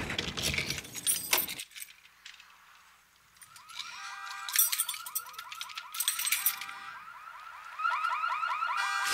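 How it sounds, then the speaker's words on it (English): A car alarm blares from a vehicle in a showroom on Better Call Saul, its rapid warbling tones repeating loudly and continuously after a brief burst of other noise at the start. "I'd be a little more concerned about that alarm going off if that was my car."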